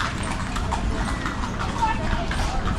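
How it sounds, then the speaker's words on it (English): Small horse's hooves clip-clop on a street in Vigan City, Ilocos Sur, with a steady rhythm of nearby steps heard under busy outdoor street noise and people talking. "Man, that's a little horse."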